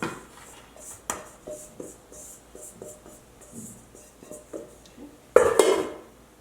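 A baking pan is set down with a sharp, loud clatter near the end, after a few quieter clicks and soft scraping from mixing in a kitchen, with no talking.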